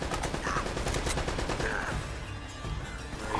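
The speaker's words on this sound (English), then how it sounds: "Who is that shooting at me?" Rapid gunfire from the video game Uncharted: Drake's Fortune, dense bursts of automatic shots rattling continuously and loudly, with no voice over it.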